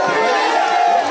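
Crowd at an outdoor political rally applauding and cheering loudly and steadily, a dense wash of clapping and voices with no pauses.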